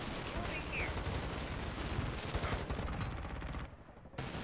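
Dense, continuous gunfire from the video game Call of Duty, loud and sustained bursts filling the clip with brief dips near the end, and a voice mixed in underneath.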